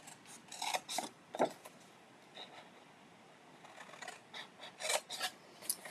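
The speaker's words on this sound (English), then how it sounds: "Now down here at the bottom, I'm going to cut up to the score line on all of these." Scissors cutting a paper door hanger box up to the score line, a series of short rasping snips and rustles in irregular bursts, close and fairly quiet.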